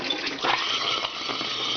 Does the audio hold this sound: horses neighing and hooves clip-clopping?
no